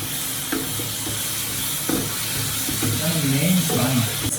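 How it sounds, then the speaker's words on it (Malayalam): Eggs are sautéed in a pan for egg mozego, sizzling and scraping steadily under a voice speaking over the cooking. "ഈ എഗ്ഗ് എന്ത് ചെയ്യാം ഒന്ന് ജസ്റ്റ് ഒന്ന് വഴറ്റി കൊടുക്കാം"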